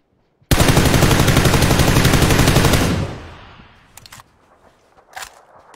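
Loud, rapid automatic gunfire in a shooting video game, a sustained burst of close rapid shots lasting a few seconds before fading, followed by a few scattered softer shots.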